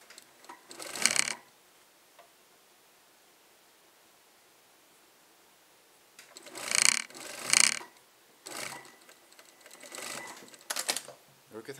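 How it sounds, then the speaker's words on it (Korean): Short bursts of a domestic sewing machine stitch a few centimetres of sleeve seam on a stretch short-sleeve T-shirt, with quiet gaps and faint handling noise between runs. "여기 안 박은 데를 이제 박아 주시는 거예요."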